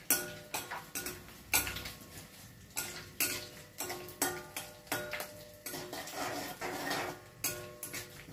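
Mustard seeds and dried red chillies fry and crackle in a pan for Telugu mango pulihora, with a spoon scraping and clinking against the metal in an irregular series of sharp strokes over a soft, steady sizzle.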